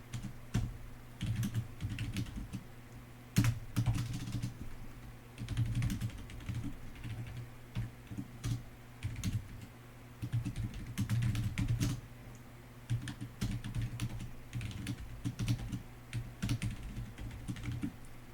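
Code being typed on a computer keyboard: close, quiet bursts of rapid keystrokes with brief pauses between runs, continuing steadily with no voices.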